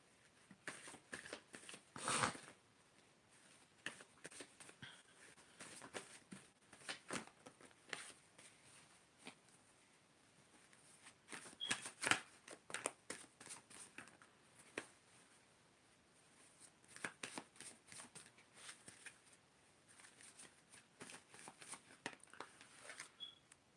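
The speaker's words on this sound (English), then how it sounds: "So I'm just shuffling." A tarot deck is shuffled by hand in quiet bursts of soft riffling and card slaps, close and faint, with pauses between rounds.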